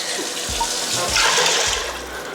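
Tap water pours into a measuring cup while four cups are measured for Ghanaian waakye in an Instant Pot kitchen, a steady close hiss of running liquid filling the vessel with a few low knocks and splashes, no talk.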